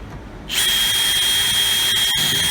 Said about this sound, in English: you don't force that drill bit through too fast, because sometimes you can crack the plastic